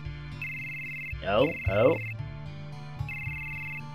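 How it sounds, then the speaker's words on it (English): Old-style telephone ringing in the video game Final Fantasy VII, a repeating electronic ring over game music, with a voice briefly reacting between rings. "Something's ringing. Does someone have a phone?"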